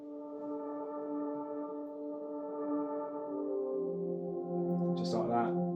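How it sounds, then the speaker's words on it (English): A soft, sustained synth chord played on an Arturia Minilab 3 keyboard in Ableton drones quietly with steady tones that shift in pitch near the end, where a brief breathy noise also appears. "literally, it's just some like synth things"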